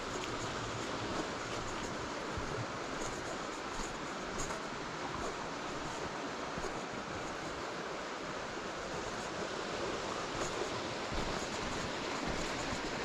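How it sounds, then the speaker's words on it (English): River water rushing past a viaduct leg on the River Wansbeck, a constant low roar of churning flow, fairly quiet and even throughout with no voices. "the power of the water where it's rushing past the leg of the viaduct"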